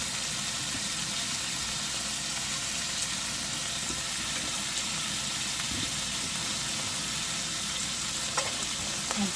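Garlic, onion and freshly added carrots fry in a pan for a Cypriot bean soup, giving a steady close sizzle with faint scraping of stirring throughout and no talking.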